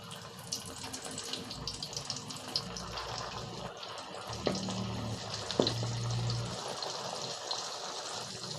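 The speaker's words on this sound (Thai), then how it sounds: "พอ น้ำมันร้อนได้ที่เราก็ใส่ปลา ดุกลงไปครับ" Catfish hits hot oil in a wok, producing a steady, dense crackling sizzle throughout, with a brief louder splash of frying as the fish goes in.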